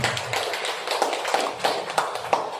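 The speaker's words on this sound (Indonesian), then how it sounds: "Tepuk tangan untuk kita semua" A gathered audience at a village assembly claps together in a fairly even, rhythmic pattern, a steady patter of hands at moderate distance.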